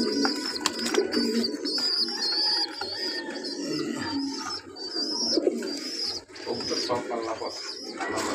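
Breeding pigeons kept in a loft coo in low, rolling bursts that overlap with scattered chirps, a steady mid-distance chorus that carries on for several seconds.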